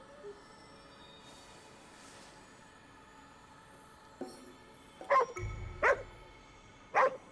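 A dog barks a few times in the video game GhostWire: Tokyo, three or four sharp close yelps in the second half after a quiet stretch, with a low rumble underneath.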